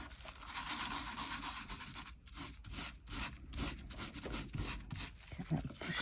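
Glitter being rubbed by hand into wet glue gives a steady, soft scratchy friction that runs unbroken for several seconds, with a few slightly sharper scrapes near the end.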